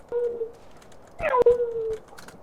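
A person imitates a dog in GTA Online, voicing two short whimpering, howl-like calls with a pause between them, fairly close and clear over quiet game background.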